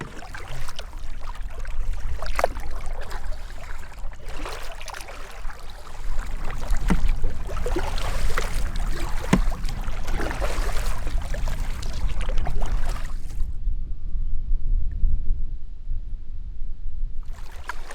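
Canoe on a lake in the Michigan wilderness, with steady water wash and wind rush around the hull, plus faint paddle splashes and dips at irregular intervals. No talk, and the noise quiets near the end.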